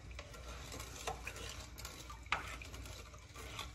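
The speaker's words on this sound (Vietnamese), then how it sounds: "Khuấy cho nó tan." A utensil stirring salt and sugar into cooled boiled water for Vietnamese pickled mustard greens, soft swirling and light clinks against the container, with one sharper knock partway through and no speech.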